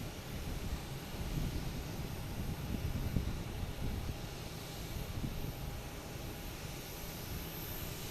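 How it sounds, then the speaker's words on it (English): JetBlue flight 166, an airliner passing at Boston Logan Airport, makes a continuous broad rushing jet roar, steady and fairly close, with no voices over it. "JetBlue 166 going past me right now."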